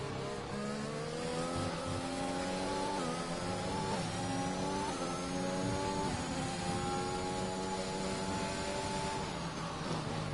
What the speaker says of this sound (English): The McLaren of MCFC is now going down to overtake ZGS here.